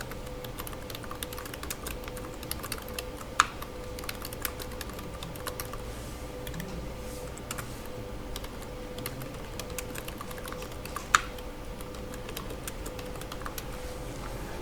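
Rapid, steady typing on a computer keyboard entering text in CAD software, close and fairly quiet, with continuous light key clicks and a couple of sharper taps standing out.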